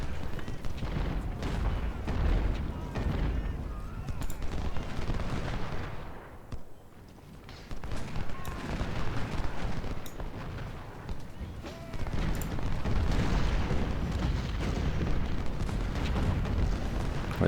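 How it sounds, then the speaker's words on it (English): Battle sounds from Ultimate General: Civil War at Malvern Hill: dense, continuous gunfire and booming artillery roll on almost without pause, easing briefly midway before surging back louder. "Wait till they stop firing"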